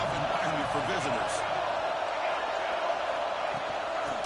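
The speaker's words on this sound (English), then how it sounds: "Listen to the crowd energy here in the early going." Crowd noise in a stadium football game makes a dense, constant roar. A commentator's voice sits over the top in the first seconds.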